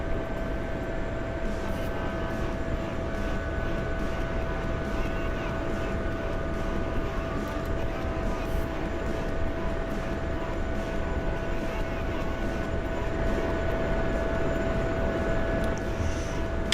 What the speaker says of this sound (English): Somebody's taxiing.